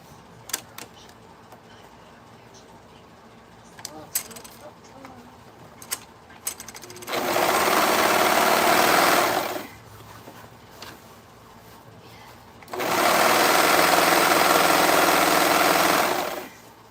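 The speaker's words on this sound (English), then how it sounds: "I'm going to also finish up the edge on the serger laying flat like this." A serger sewing machine finishing the edge of Ankara fabric for a shoulder shrug, running in two steady loud bursts of rapid mechanical whirring with a quieter pause and faint handling noise between them.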